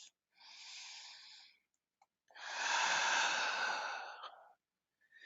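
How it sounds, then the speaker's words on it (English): A slow, deep breath during a guided meditation, a soft airy inhale followed by a longer, fuller exhale, close and quiet with no talking. "Take a breath."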